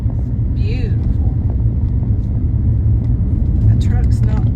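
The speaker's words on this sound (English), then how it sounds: "That truck's not stopping there" A truck drives along a rural back road in Rusk County, heard as a steady low engine rumble and road noise from inside a vehicle, with a voice talking over it.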